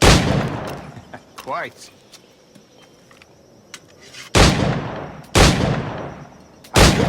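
Loud period-firearm gunshots in a video game, three sharp, close blasts spaced about a second apart near the end, following a quieter stretch with a brief spoken word.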